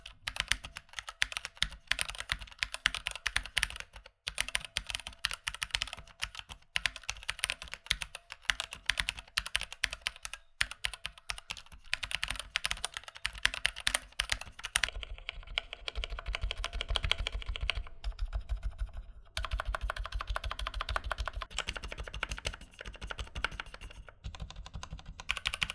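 Steady typing on a mechanical keyboard with a thick plastic frame, noise-dampening foam and some dampened keys: dense, continuous close-up key clacks with brief pauses, no talking.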